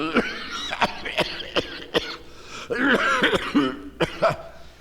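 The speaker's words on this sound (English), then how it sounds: "How long have you had that cough?" A man coughs repeatedly in sharp, hacking bursts, several harsh coughs spaced across a few seconds with some throaty rasping between them.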